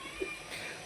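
A cat gives a single short, faint meow close by in a quiet room, with a soft background hiss and no other clear sounds.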